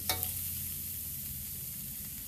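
Vegetables sauté steadily in a hot pan, with a short clatter of stirring at the start.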